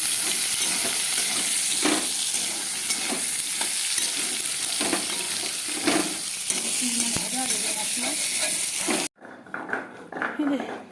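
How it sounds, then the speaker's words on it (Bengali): Prawns fry with potato and pointed gourd in a wok, giving a dense, close sizzle broken by repeated stirring scrapes, with brief voices in the background and a sudden drop to quieter room sound near the end. "আলু পটল দিয়ে চিংড়ি মাছ হচ্ছে"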